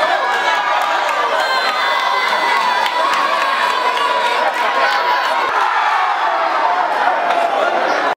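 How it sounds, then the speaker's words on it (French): Supporters cheer en masse after a tournament football match in Tanguiéta, a loud, dense crowd roar with shouting and children's yells running continuously throughout. "sous les acclamations de ses supporters venus en masse."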